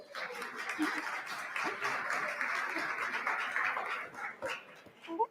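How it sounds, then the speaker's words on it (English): An audience at a regional mayors' event gives a sustained round of applause, a dense wash of clapping hands that holds steady for several seconds before tapering off, with a few scattered voices. "let's give her a round of applause"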